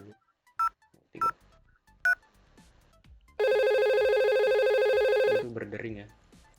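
In a Packet Tracer VoIP simulation, three short dialing tone beeps are followed by a long, loud steady ring-like tone lasting about two seconds, with a person speaking briefly afterward.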